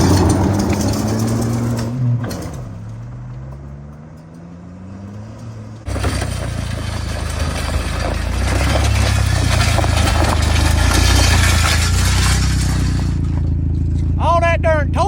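A front-wheel-drive dually truck's engine roars with tires spinning, a harsh broadband rush that swells after a brief engine drone, loud and close.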